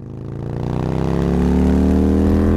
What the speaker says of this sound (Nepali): तेरो दाइले बाइक उडाउँछ